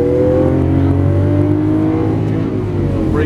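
A green 2012 Lamborghini Aventador accelerates on a race track, its engine a loud, steady close roar with rising pitch held throughout.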